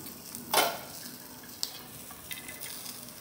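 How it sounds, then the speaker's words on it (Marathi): Green chilies frying in oil in a pan, a steady close sizzle with a sharp burst of spatter near the start and a few brief crackles after. "तेल टाकून छान खरपूस मिरच्या भाजून घ्यायच्यात।"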